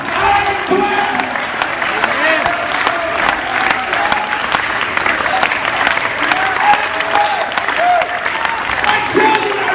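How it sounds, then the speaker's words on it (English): Church congregation clapping hands together at a Sunday service, a dense, steady wash of applause lasting throughout, with some voices mixed faintly in the crowd. "why don't you clap your hands and say, my family is blessed"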